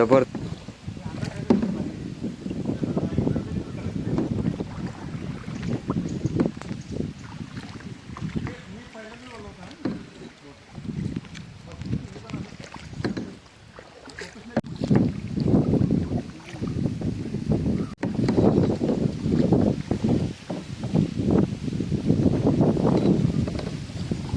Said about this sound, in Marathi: शांत अशा वातावरणामध्ये पाण्याचा आवाज ऐकून एकदम मन प्रसन्न झाला ना